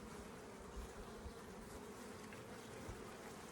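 Honeybees hum in a dense, continuous buzz around an opened hive as frames are handled, a close swarming drone that stays steady and fairly soft throughout with no talking.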